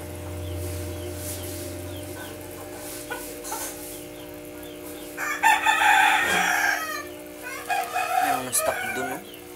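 Farmyard chickens at feeding time, with a rooster crowing and hens clucking in loud bursts over a steady hum, some of it close by.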